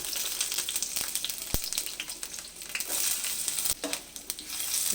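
Onion frying in hot mustard oil with a broken dried red chili, a soft crackling sizzle with a few sharp utensil taps, fairly quiet and close, with no speech.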